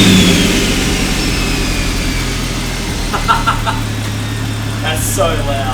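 Turbocharged Ford FG Falcon ute engine revving loudly nearby, a steady rumbling drone with brief throttle blips, and someone talks over it.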